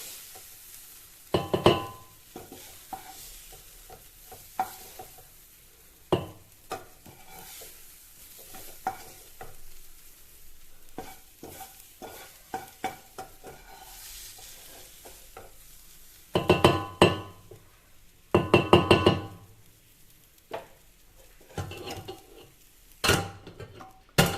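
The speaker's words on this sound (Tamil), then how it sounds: "இப்போ நம்ம ஸ்டவ் ஆஃப் பண்ணிவிட்டு இந்த மாவில் கலந்துக்கலாம்." Cooked vallarai greens are stirred into chapati flour in a metal vessel, heard as close scraping and clinking strokes in irregular bursts, louder clusters near the end, with no talk.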